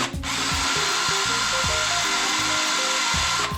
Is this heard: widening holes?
yes